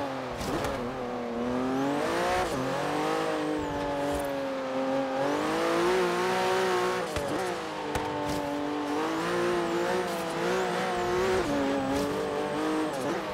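Racing car in Forza Horizon 3 heard on a race course near an Ultima and a Koenigsegg, its engine droning steadily with shifting pitch as it slows for a corner, with some tire noise, continuous and fairly loud without talk.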